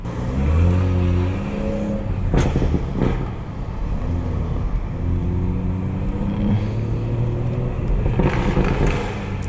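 A tuned 500 hp Stage 2 BMW 440i engine revs loudly nearby in New York City, its pitch rising and falling in several surges, with a steady rumble between and no talking.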